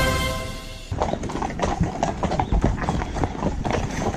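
Hooves of Republican Guard horses clip-clop on pavement in Marseille, a dense, uneven run of close, loud clacks from several animals walking together, following a brief tonal sound at the start.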